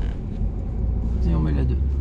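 A car accelerates during a driving lesson: a steady low engine rumble that rises in pitch partway through, heard from inside the cabin with voices over it.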